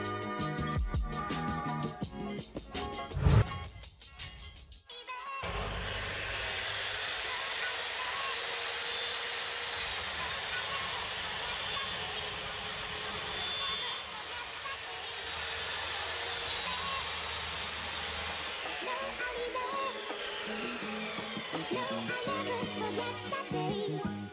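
A power saw cuts a 45 degree angle, whirring steadily and moderately loud for roughly twenty seconds after a few brief knocks and a sharp start-up at the beginning.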